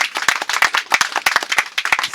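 Audience applause at a meteorite talk in a museum setting, a room of hands clapping steadily and unevenly with sharp individual claps standing out, fairly close and continuing throughout.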